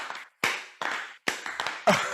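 An audience imitating a drummer's clap pattern: a few separate bursts of group hand clapping with short silent gaps between them, each burst sharp at the start and then fading.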